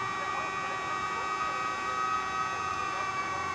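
A wailing ambulance siren sounds steadily in the distance, faint and continuous under a low rumble of traffic or ambient noise.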